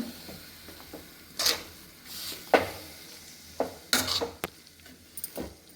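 Pumpkin pieces frying in ghee in a pan for Kashi halwa, a steady low sizzle broken by sharp scrapes and clinks of a spoon stirring at irregular intervals, close up.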